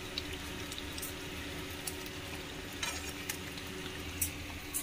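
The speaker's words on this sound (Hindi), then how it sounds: "घर में हो रहा है काम और मैं बना रही हूँ घी" Ghee simmering and sizzling in a pan at home, a steady low frying hiss with soft bubbling and occasional brief spatters and stirring clinks, fairly quiet and continuous throughout.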